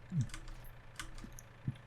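Quiet clicks and taps from a computer keyboard come in a few sparse, irregular keystrokes against a low background hum.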